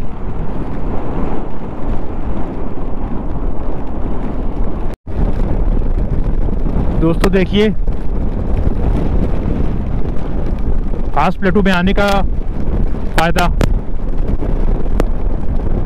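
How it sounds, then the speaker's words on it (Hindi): Strong, steady wind roars and buffets across the Kaas Plateau on a foggy, rainy monsoon day, a dense broadband rush throughout with a brief dropout near the middle, while someone speaks over it at points. "हवा का प्रेशर इतना ज़्यादा है यहाँ पे"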